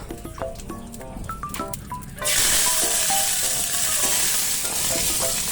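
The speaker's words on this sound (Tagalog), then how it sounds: "Igisa ng sama-sama. Mga aromatic." Spices and aromatics sauté together for native chicken ginataan, light stirring clinks at first, then a loud, steady close sizzle as ingredients hit the hot oil.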